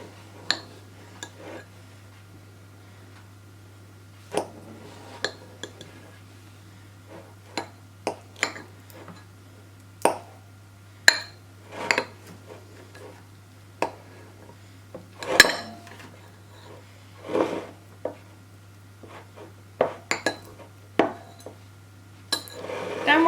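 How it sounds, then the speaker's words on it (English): Butter chopped into small cubes with a knife on a board, a long run of sharp, irregular taps and clicks at close range over a low steady hum, with no talking. "chop down our butter"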